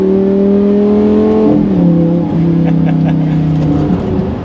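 A performance hybrid car's engine revs loudly from inside while driving, its pitch climbing, dropping at a gear change and climbing again in a smooth, sustained roar.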